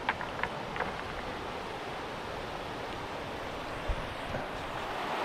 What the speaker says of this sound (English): this is our first look here at the coast